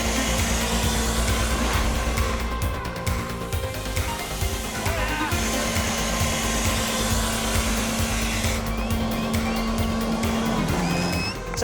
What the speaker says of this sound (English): We've got the leaf blower, that's going to give us the hover as before